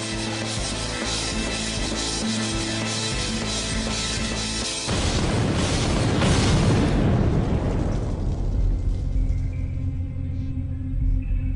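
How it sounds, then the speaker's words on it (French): A dynamite charge detonates during a bank heist, a sudden massive blast that cuts through a sustained droning tone and then rumbles and crackles for several seconds as it slowly fades. "La détonation résonne dans toute la ville."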